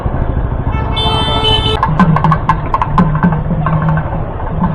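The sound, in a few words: heavy city traffic with honking horns in Coimbatore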